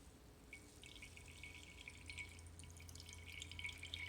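Water dripping and trickling from blanched green beans squeezed inside a linen cloth, a soft, steady patter of small drips close by with no talk.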